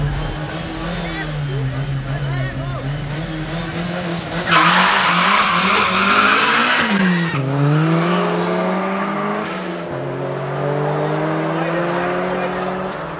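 Turbo drag racing cars, a Turbo Conquest among them, launch off the line at a night drag strip: engines scream and climb through gears with loud tire squeal, rising pitch sweeping as they pull away, with crowd voices underneath.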